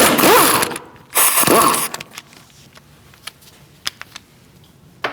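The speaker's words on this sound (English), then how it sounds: "Using a 17mm socket, we're going to take out this bolt and the one up here." Ratchet wrench with a 17mm socket loosening a brake caliper bolt on a 2002-2006 Toyota Camry, two bursts of rapid clicking ratcheting followed by sparse metallic taps and clinks.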